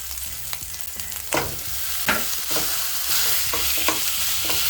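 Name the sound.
minced meat frying with ginger in a pan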